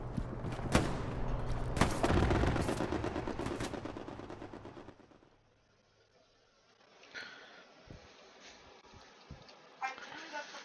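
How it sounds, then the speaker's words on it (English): Bursts of automatic gunfire in a World War II shooter game, loud rapid rattling volleys with sharp individual shots in the first half, then quieter scattered shots and distant fire after a brief lull. "He's shooting at me."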